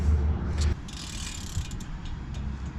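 A ratchet wrench works on 18 mm bracket bolts of a GMC during a wheel bearing and half shaft job, giving a steady close mechanical clicking with a low rumble underneath and no talk.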